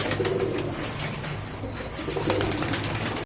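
Pigeons coo steadily in a loft where high-flying birds are kept and feeding, low throaty cooing repeating close by with a faint rustle of wings and movement.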